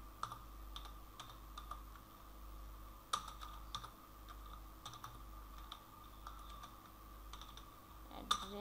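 Someone types on a computer keyboard, a quiet stream of light key clicks with a few sharper taps, over a low steady hum.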